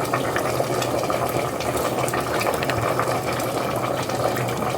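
Liquid sloshing and pouring steadily in a kitchen while chicken curry with winter melon is cooked, likely fish sauce being added, a dense continuous watery rush that is close and fairly loud with no talk.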